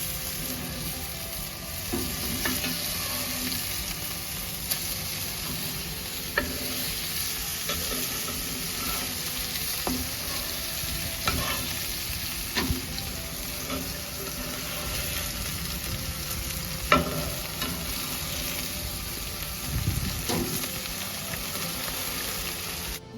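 Burgers sizzle steadily in a pan, a dense continuous frying hiss with occasional crackles and faint clicks, close and fairly loud throughout.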